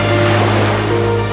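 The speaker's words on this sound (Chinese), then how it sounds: "大海的声音" Steady, close, loud ocean-like rushing hum heard inside a seashell held to the ear, a continuous wash with no breaks across the short moment.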